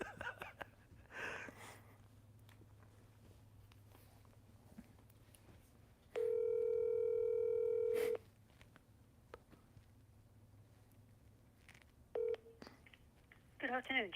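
Tones sound while a call is placed on a phone line. A steady electronic tone holds for about two seconds over a quiet room hum, and a single short beep follows a few seconds later.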